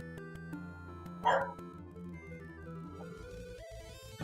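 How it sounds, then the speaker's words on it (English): One dog's bark, short and somewhat muffled, comes from the background of a room, over steady tonal game music. The music keeps playing after the single burst. "sorry if you can hear my dogs in the background"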